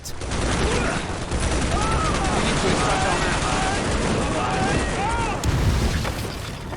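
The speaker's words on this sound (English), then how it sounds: "Weapons are appropriately powerful to their respective caliber, explosions sound devastating" Dense, continuous video game gunfire from a modern military shooter, with heavy booms and explosions, loud and chaotic, with whizzing sounds cutting through the barrage.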